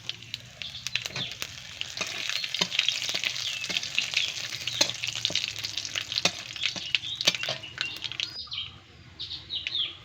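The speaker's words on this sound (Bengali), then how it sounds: "ফোড়নে দিচ্ছি শুকনো লঙ্কা, 5 ফোড়ন, গোটা সর্ষে, তেজপাতা" Dried chillies, five-spice, whole mustard seeds and bay leaves tempering in hot oil, giving a steady crackling sizzle with sharp pops and stirring scrapes, while birds chirp faintly in the background.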